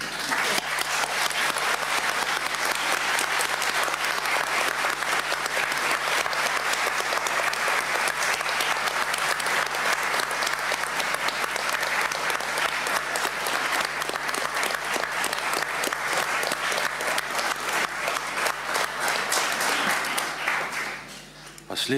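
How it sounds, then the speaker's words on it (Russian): Sustained, loud applause from an audience filling the National Assembly hall in Venezuela, dense and steady for about twenty seconds before tapering off at the end. "Последний раз мы слышали такие аплодисменты, когда здесь выступал президент Уго Чавес."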